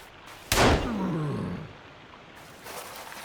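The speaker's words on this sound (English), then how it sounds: "Shoot him while he's down." A single loud gunshot crack in the survival video game Sons of the Forest, with a low rumbling tail fading over the next second.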